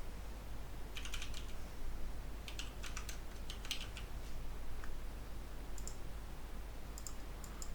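Quiet clicking of a computer keyboard as an indicator name is typed, scattered keystrokes in short bursts over a steady low hum, no talk.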